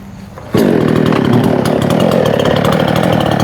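A chainsaw cuts wood in steady, loud, continuous running after a sudden start, close up and alone.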